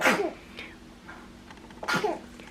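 Two sharp sneezes, one at the start and another near the end, close and fairly loud, with a quiet pause between them.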